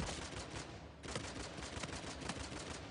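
Dense, continuous gunfire from a Type 95 rifle during an Uncharted 4 multiplayer ranked match, a steady rattle of rapid shots throughout with no voices.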